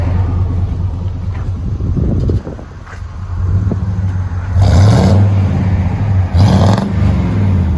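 A Chevy Silverado 1500 with a 5.7L V8 and MagnaFlow exhaust idles with a steady, deep, loud rumble, swelling twice into brief throttle blips with some wind noise and no talk.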